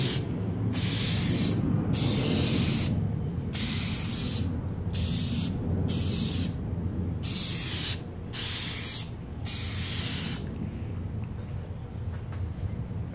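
Clear coat sprayed onto car headlights in repeated close bursts of hissing spray, separated by short pauses, with a steady low background rumble throughout.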